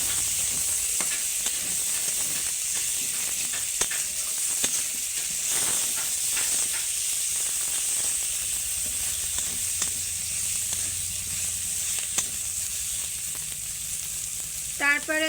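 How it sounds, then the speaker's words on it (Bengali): Garlic and green chili paste fries in hot oil in a pan, a steady bright sizzle and hiss punctuated by scraping stirring strokes throughout, with no voices. "এবার আগে থেকে বেটে রাখা রসুন আর কাঁচা ঝাল বাটা দিয়ে দিতে হবে। দিয়ে আবারও ভালো করে নাড়াচাড়া করতে হবে।"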